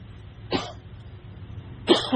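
Two separate coughs from one person, the first at moderate volume and the second slightly louder, with a quiet pause between them and a faint background hum.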